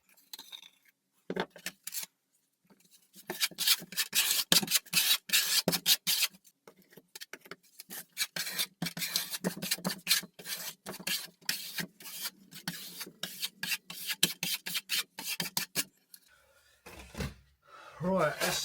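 Darker Venetian plaster being spread onto a sample board with a trowel, heard as close, repeated gritty rasping and scraping strokes in an irregular rhythm, with short pauses between passes.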